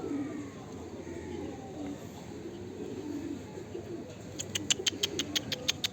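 Pigeons in a coop coo softly in low murmurs, then a quick run of sharp clicks or wing flaps bursts in near the end; quiet and close.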